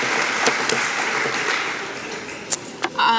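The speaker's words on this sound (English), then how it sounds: "So a round of applause." A crowd at a mayor's speech event applauds with steady, fairly loud clapping that thins toward the end, where a few sharp isolated claps and a brief bright ringing tone stand out.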